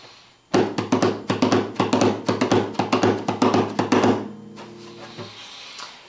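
Steady galloping taps on a wooden surface, a quick short-short-long pattern repeating for several seconds, close and crisp, ending with a brief ringing tone.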